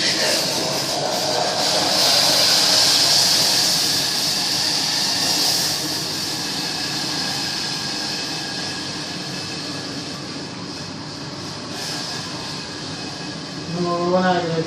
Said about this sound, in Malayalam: ഇങ്ങനെ തിളച്ച് കുറുന്നനായാൽ ഇതുപോലെ നല്ലോണം തിളക്കണം